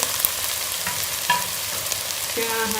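Minced chicken sizzles steadily in a hot pan, with occasional scrapes and stirring clicks over the constant frying hiss.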